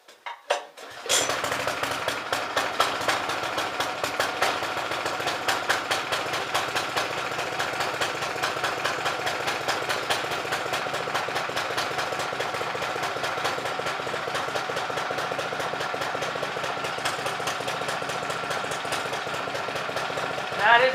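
A 2012 Husqvarna FT900 tiller's small engine catches on a cold start, then runs at a steady, rapid, clattering idle close by for a long stretch, loud and constant.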